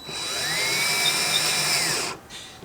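A power drill whirs at steady, moderate volume as it slowly drives threaded inserts into a jon boat's casting deck, then stops abruptly with a short pause before a faint restart.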